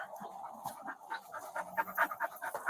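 A dog pants inside a car in quick, rhythmic breaths at close range, with a faint whimper in the background.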